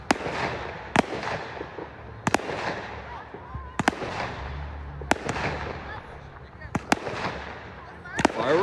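Victoria Day fireworks in a neighbourhood, sharp bangs at irregular intervals, several seconds apart, each trailing off into crackle and echo, with a faint background murmur of people.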